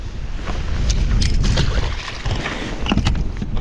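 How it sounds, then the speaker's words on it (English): Strong, brutal wind gusting across a Wisconsin lake on a cold spring morning while bass fishing, a loud, steady roar of buffeting wind noise against the microphone, with faint splashes and no talking. "it's kind of brutal out here with the wind and everything."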